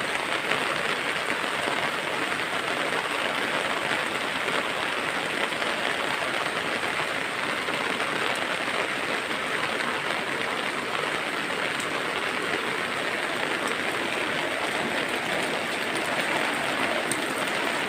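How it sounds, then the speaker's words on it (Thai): Steady, even rain hiss around a house, continuous and fairly close, falling without a break and with no voices. "ตอนฝนตก"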